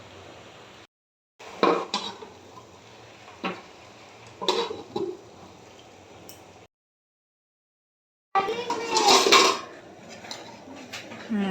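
Clattering of a metal lid being set onto a cooking pot of greens, a few scattered clanks and knocks with short pauses between, close and fairly loud.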